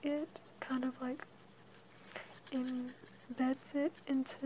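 Soft, close scratching of a gum wrapper being scraped across paper for an ASMR art trick, heard beneath quiet, intimate speech.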